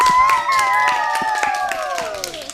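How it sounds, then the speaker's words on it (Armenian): An audience at a children's TV programme claps and cheers in a short, lively burst, mixed with sustained tonal sounds. "ծափահարենք։"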